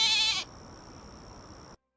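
A single short, nasal bleat from a goat in the video game Hytale, loud and close, followed by a faint steady tone before silence.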